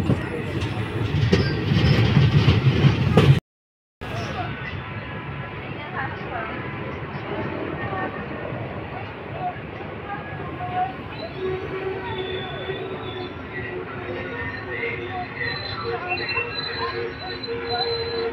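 Teesta Torsa Express train rolling into Salar station, a continuous rumble of wheels and carriages with faint squeals and clatter, heard from inside the train, with a brief cut near the start.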